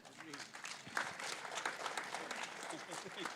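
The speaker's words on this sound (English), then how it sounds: "You guys are clapping for the song" An audience at a literature festival session claps after a song, a lively spread of hand claps filling the room under overlapping voices and cheering, moderately distant.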